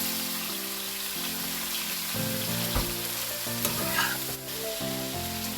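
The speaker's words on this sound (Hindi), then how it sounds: "इधर थोड़े से ऑनियन फ्राइज हो गए" Sliced onions fry in a kadai with leftover rice nearby, a steady close sizzle with stirring scrapes, while soft background music plays throughout and no one talks.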